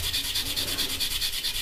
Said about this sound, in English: So we just give this a good rub.